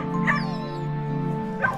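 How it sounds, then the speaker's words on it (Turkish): A caged dog, likely in a shelter, whimpers and yips in short high cries over a steady background hum, two brief bursts about a second apart, close by. "Burası ne, bir kafesin içinde köpeğimiz"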